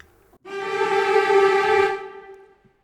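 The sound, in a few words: cello trills, Spitfire BBC Symphony Orchestra sample library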